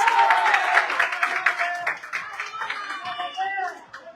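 Football crowd at a semifinal match claps and cheers in a steady rhythm, the applause dense and lively while a voice talks over it.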